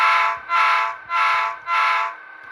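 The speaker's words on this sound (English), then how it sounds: "F3 is a short horn." Short horn from an Athearn Southern Pacific SD45T-2 model locomotive, four quick, loud blasts in an even rhythm, each under half a second, heard alone.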